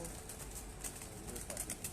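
Pigeons on a rooftop at night in Bahria Town, Lahore, cooing and stirring faintly within a steady, hissy background, with no clear single call standing out.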